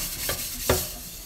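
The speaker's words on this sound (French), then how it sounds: "je vais nettoyer avec une éponge ou toujours avec le grattoir" A sponge or scraper scrubs inside a dishwasher with a little dish soap, making two short, soft scraping strokes that are fairly quiet, with no talking.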